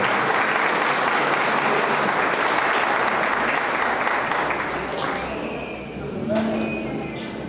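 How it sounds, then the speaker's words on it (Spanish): A crowd at a fiftieth-anniversary ceremony in Laramarca gives strong, sustained applause, dense and loud throughout, easing slightly near the end with a few voices surfacing. "Fuertes aplausos."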